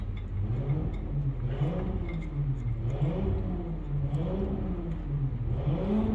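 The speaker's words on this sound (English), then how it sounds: "why is he or she revving up their engine so much?" A car engine revving nearby in a 2JZ into S13 build setting, a steady mid-pitched drone that rises and falls in repeated waves of throttle for several seconds, loud and close with no talk.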